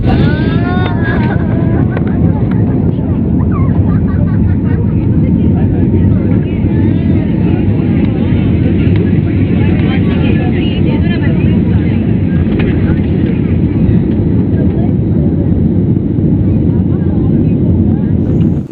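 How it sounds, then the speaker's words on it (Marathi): A passenger airplane taking off from a runway, heard as a loud, continuous engine roar that holds steady throughout and fills the whole clip. "धावपट्टीवरून जेव्हा आकाशात छेपवतं विमान त्यावेळेला थोडी भीती वाटते"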